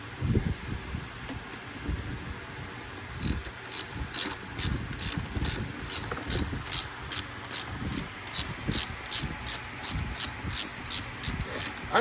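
A ratchet wrench clicks in a steady run of quick, close ratchet strokes while tightening a bolt on a Porsche Macan during a smoking-on-start-up repair, over faint background rustle and wind.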